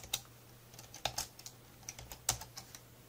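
Typing on a computer keyboard: a sparse run of light clicking keystrokes at an uneven pace, near and fairly quiet over a low steady hum.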